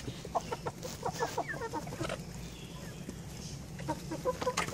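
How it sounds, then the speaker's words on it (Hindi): Several chickens, two roosters and thirteen hens, cluck and murmur nearby in a busy, overlapping chorus, with short squawks scattered throughout. "हमारे पास सिर्फ दो मुर्गे हैं और थर्टीन मुर्गी हैं"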